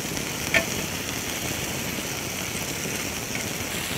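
Peri peri chicken frying in oil over a low flame, giving a steady, even sizzle that holds at the same level throughout with one brief faint tick.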